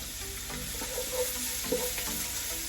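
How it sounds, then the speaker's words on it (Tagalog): Mussels sautéing with plenty of ginger in a pan give off a steady, moderate sizzle, broken by a few soft clinks and stirring sounds, with no talking. "habang ginigisa natin yung tahong"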